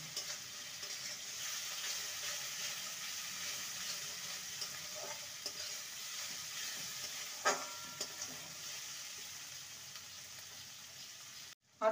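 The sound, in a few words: ginger garlic paste frying in a pan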